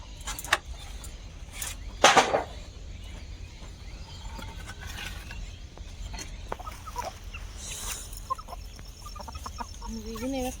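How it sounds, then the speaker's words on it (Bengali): Chickens cluck and squawk as they are shooed into their coop at a rural home in the Sundarbans, with a loud burst early on, scattered rustling and shuffling, and a faint voice murmuring in the background. "মুরগিগুলো এবার তুলে দাও, এই যা যা ঘর যা, যা উঠে যা"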